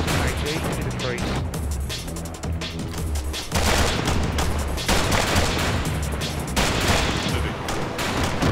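Sustained gunfire from a fire-and-move training drill, rapid overlapping shots and bursts running loud and continuous throughout, with voices calling out underneath.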